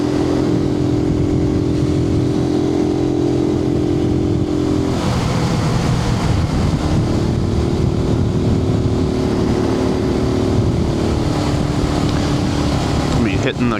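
A Suzuki TU250X motorcycle on an evening ride, heard from a helmet-mounted microphone: a loud, continuous engine drone that shifts pitch as the rider changes speed, mixed with steady wind rush.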